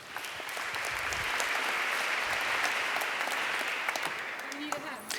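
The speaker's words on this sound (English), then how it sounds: "Could I please have a warm applause of David Kenning" Warm audience applause for a keynote speaker at a conference, a broad, even wash of many hands clapping for several seconds at moderate distance, fading slightly near the end.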